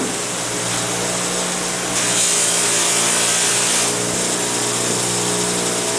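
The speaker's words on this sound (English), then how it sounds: "this is just a 1 horsepower 8-inch buffer" A 1 horsepower 8-inch long-shaft bench buffer runs steadily while a knife is polished against a muslin wheel, giving a constant close whir with broadband hiss that swells briefly midway, with no talking.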